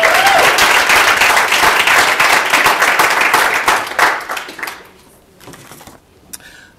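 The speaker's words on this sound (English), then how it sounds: "So another round of applause," A conference audience applauds loudly and densely for several seconds, the clapping thinning out and fading to a few scattered claps at the end.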